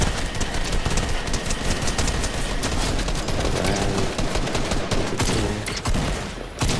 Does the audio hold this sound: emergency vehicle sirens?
no